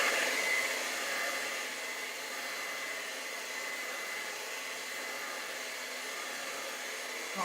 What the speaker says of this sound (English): So I'm just going to take a hairdryer, dry all this.